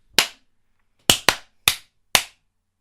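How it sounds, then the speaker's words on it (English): Five sharp hand claps for a recording sync test: one on its own, then a quick pair about a second later, then two more spaced apart, each crisp and close in an otherwise quiet room. "I'm going to do a clap test."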